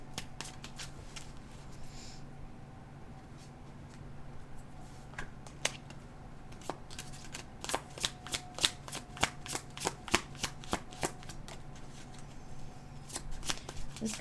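Tarot cards being shuffled by hand, a long run of quick riffling snaps and soft slides that build into denser bursts of card flicks, close and fairly quiet with a faint background hum.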